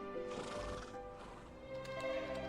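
A horse in the video game Dragon Quest XI S lets out a clear, tonal neigh that holds for a couple of seconds, close and alone with no talking.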